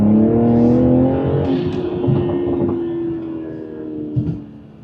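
Toyota Supra with a B58 engine accelerating in sport mode, a loud continuous engine drone with steady rising harmonics that holds close for about five seconds, swelling briefly near the end, with no talk over it.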